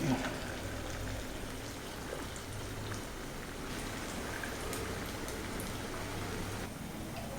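Hot oil crackles and hisses continuously over a medium flame, a dense bubbling sizzle of onion-cabbage vada deep frying that holds steady throughout without pause.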